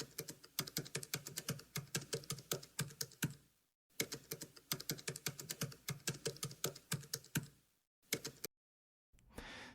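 Rapid, close keystrokes on a computer keyboard while writing Python code, in bursts of even clicking broken by short pauses and a final silent gap before a few more keys, no talking.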